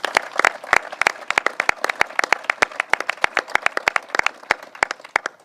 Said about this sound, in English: and I'd like to give them a round of applause.